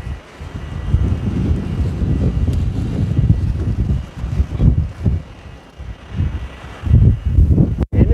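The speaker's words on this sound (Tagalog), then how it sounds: "Lakas talaga ng hangin" Strong wind gusts outdoors while a four-year-old moringa is being repotted into a bucket, loud buffeting rumbles across the microphone that surge and ebb in uneven waves, with a sharp knock near the end.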